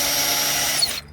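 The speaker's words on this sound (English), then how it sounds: "grab my drill again" Brief burst of an electric drill whining through a hole in a ute canopy, loud and close, then cutting off abruptly.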